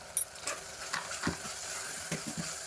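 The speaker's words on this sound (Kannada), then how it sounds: "ಟೊಮೆಟೊ ಚೆನ್ನಾಗಿ ಫ್ರೈ ಆಗಿದೆ. ಈಗ ಇದಕ್ಕೆ ಧನಿಯಾ ಪೌಡ್ರ್ ಹಾಕ್ತಾ ಇದ್ದೀವಿ" Tomatoes fry in a pan with coriander powder added while a spoon stirs. Scrapes and taps land in a loose rhythm over a faint sizzle, heard up close with no voices.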